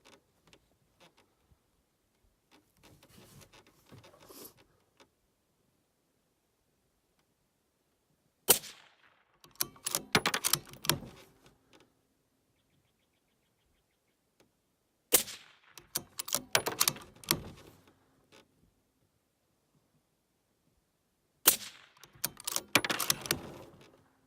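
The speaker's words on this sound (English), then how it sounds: "here come the first 5 rounds ever fired through this brand new suppressor and mount system" Suppressed rifle shots fire through a custom silencer in four separate bursts spread over roughly twenty seconds, each a sharp crack followed by clattering action and ringing, with quiet gaps between.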